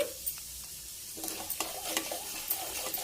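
Mustard seeds and a dried red chili crackle and spatter in hot oil for a cucumber masala curry tempering, a soft continuous sizzle studded with sharp pops and scraping stirs, close up and without speech.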